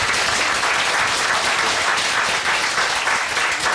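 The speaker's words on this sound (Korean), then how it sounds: "감사와 격려의 박수를 드리고 싶습니다" Sustained, dense applause from an audience at an anniversary celebration for a community center, loud and even throughout with no breaks.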